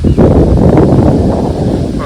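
Loud, steady wind buffeting a microphone on a lake, a broad low roar that fills the whole stretch without pause.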